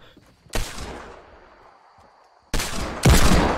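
Video game gunfire in a multiplayer shooter match: a sharp shot with a decaying echo, then after a pause two more loud bursts of rapid fire close together.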